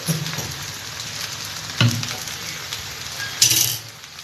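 Pasta frying in a pan as sauce is added, a steady soft sizzle with a couple of sharp clinks of a utensil against the pan.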